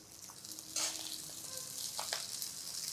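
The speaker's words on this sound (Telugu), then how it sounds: "మసాలా దినుసులు వేగంగానే ఈ బియ్యాన్ని ఇందులో పోసేసి వేయించుకోవాలి" Rice tossed in hot oil with whole spices in a pan for sweet pulao, sizzling steadily with bursts of crackling as the grains are stirred, close and fairly quiet, with no talk.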